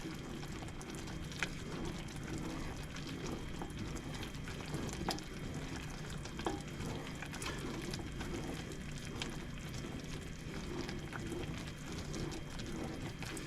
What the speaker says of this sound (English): And keep stirring. And we're going to take it up to 270.